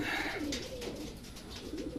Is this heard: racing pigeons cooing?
yes